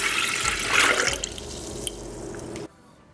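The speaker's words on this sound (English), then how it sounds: "then we can add our coconut water, which is gonna be 1 quart of coconut water." One quart of coconut water poured into a bucket, a steady liquid splash and gurgle with a brief louder burst early on, ending abruptly after under three seconds.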